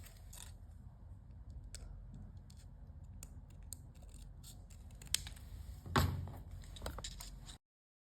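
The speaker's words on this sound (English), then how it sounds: "here also trim this part off to stick it together" Scissors trimming cardstock up close, a run of quiet, irregular snips and clicks with one sharper cut near the end before sudden silence.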